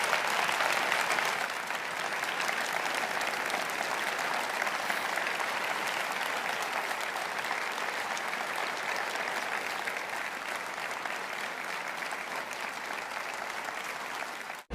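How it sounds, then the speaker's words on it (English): A church congregation gives a standing ovation in a megachurch, sustained dense clapping filling the room at steady loudness, slightly stronger at the start, with no clear speech over it. "That applause went on, that standing ovation, I should say, went on for 25 seconds."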